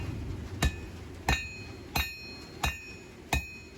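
Four-pound hammer striking hot steel on an anvil while drawing down the tip of a bushcraft knife forged from junk: five sharp ringing blows at a steady, unhurried rhythm, close and clear over a low background hum.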